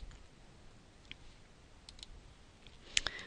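A computer mouse clicks the Finish button while mapping a network drive in Windows 7, a small sharp click near the end after a few fainter ticks, close over quiet background.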